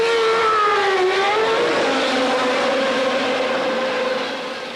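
Benetton Renault Formula 1 car from 1996 accelerating out of the pit lane: a loud, high-pitched engine scream rising through the gears, then slowly fading as it pulls away.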